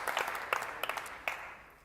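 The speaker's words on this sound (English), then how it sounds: "A round of applause, 15 years." A small audience claps briefly after a comedian's joke about fifteen years of marriage, a scattered, thin round of applause that quickly fades out.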